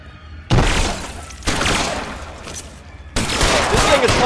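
Shotgun blasts in the video game L.A. Noire, three loud close booming shots spaced about a second apart, each trailing into a rough decay.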